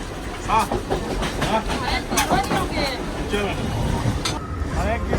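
A moving passenger train, heard from its open doorway, gives a steady loud rumble with rhythmic clickety-clack of the wheels and rushing air, and voices babble faintly underneath.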